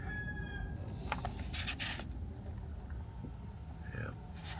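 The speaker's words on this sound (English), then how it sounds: "did you hear that rooster?" A rooster crows at a distance outside an empty, decaying house in a dying New Mexico town, a short faint call amid steady outdoor background noise.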